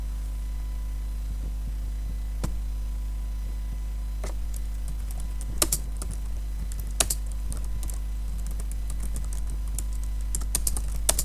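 Fast, quiet typing on a computer keyboard with irregular clicks and a few sharper keystrokes, all over a steady low electrical hum.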